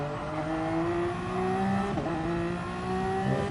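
LMP prototype race car in Gran Turismo Sport, engine droning and rising under acceleration out of a corner, loud and steady with a brief gear change dip in the middle and no talk.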